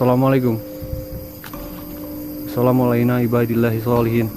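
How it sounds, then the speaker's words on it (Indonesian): Loud crickets chirp in a steady high whine inside an empty house, heard beneath a man's greeting spoken over them, with a brief pause in talk between phrases. "Ini suara jangkrik kenceng banget."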